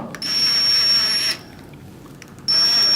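A power drill backs screws out of an LED grow light: two loud, high-pitched whining bursts, a longer one then a short one, separated by a brief quiet pause.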